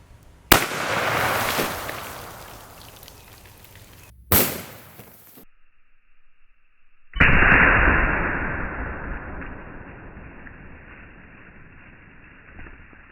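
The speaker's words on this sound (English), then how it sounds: "now we're going to shoot the Missouri Bullet Company 240 grain hard cast bullet with a high-tech coating" A Winchester 1892 lever-action rifle fires a Missouri Bullet Company 240 grain hard cast coated bullet outdoors: three sharp, loud cracks spaced a few seconds apart, each trailing off into a ringing echo, with no voices.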